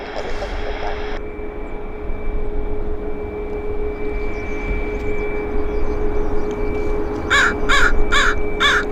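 Near the end a crow gives a rapid run of four or five loud caws, over a steady outdoor rumble and a constant hum near Vancouver airport on a quiet morning.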